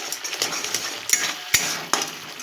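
Kashmiri potato curry with peas being stirred in a pan over raised heat, a utensil scraping and clinking against the metal in a steady run of light knocks, with a few sharper taps standing out.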